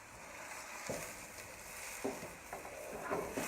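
Lobster chunks, shrimp and frozen vegetables stir-fry in a pan on high heat, giving a soft, steady sizzle broken by a few light stirring scrapes and taps, with no talk.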